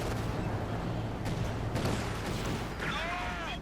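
Dense gunfire and artillery-like blasts from a Company of Heroes 2 World War II battle, with an MG42 machine gun firing at a Soviet DShK position; a loud, continuous wash of combat noise throughout.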